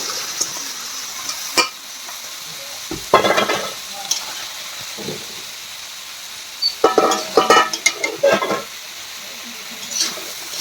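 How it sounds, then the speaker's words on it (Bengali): Chopped pointed gourd (potol) with spices is stirred in a pan, with sizzling frying and bursts of scraping spoon-stirring that come in irregular clusters, loud and close, separated by quieter stretches of gentle sizzle. "ভালো করে এগুলো মিক্স করে একটু কষিয়ে রান্নাটা করতে হবে।"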